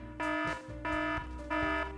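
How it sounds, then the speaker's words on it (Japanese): Alarm from the video game Doomsday Clicker, resembling an iPhone alarm: three bright, evenly spaced electronic chiming tones with a steady rhythm, clear and prominent with no talking. "iPhone のアラーム音と一緒だな"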